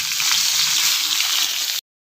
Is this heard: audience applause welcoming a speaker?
no